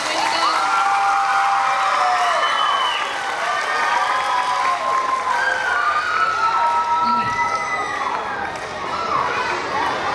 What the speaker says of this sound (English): Why don't you guys give her another big round of applause?